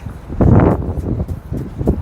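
Wind gusting outdoors near a parking area, a loud rumbling buffet that swells early and keeps gusting at a lower level throughout.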